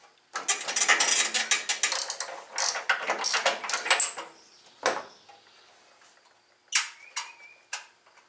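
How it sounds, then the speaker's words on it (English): A ratchet wrench loosens the spark plug on a Cub Cadet 1250 lawn tractor engine, with bursts of close, rapid clicking, a short clunk, then a few brief ratchet strokes after a pause. "Let me pull the spark plug out"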